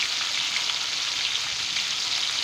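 Tomatoes simmering in a covered pan on low heat for a tomato pachadi, giving a constant soft hissing sizzle with fine crackles, even and unbroken, with no voices.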